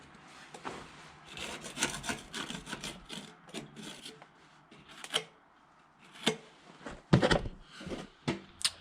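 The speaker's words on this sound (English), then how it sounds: "So I've scraped it off the best I could, but you can see there's still quite a bit of grease on there yet." Grease scraped off the metal rear end of a Wilson grain trailer: close, uneven rasping strokes in bursts, some sharp scrapes standing out, with quieter gaps between and no talk.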